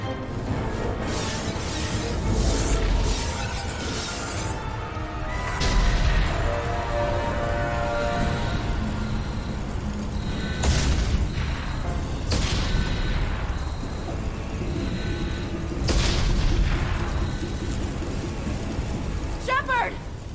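Repeated explosions batter a spaceship in the video game Mass Effect 2, with booming impacts and crackling rumbles recurring over a dense background of alarms and effects, while voices talk over the action.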